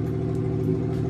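A misfiring car engine runs rough, its steady low rumble broken by a faint, regular stumbling pulse, heard close and alone without speech.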